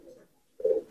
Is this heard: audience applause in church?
no